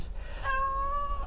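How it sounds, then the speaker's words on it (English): A domestic cat gives a single drawn-out meow, close and clear, lasting nearly a second against a quiet background. "Shut up, cat."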